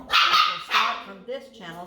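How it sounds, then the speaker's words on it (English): Dogs barking in loud, close bursts, two sharp barks then a shorter yip, with someone talking over and between them. "Sorry about my dogs."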